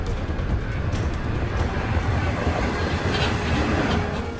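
A train rolls along continuously with broadband rumble and rail noise after its cars separate because of a malfunctioning drawbar. The sound is steady, loud and close, with no talk.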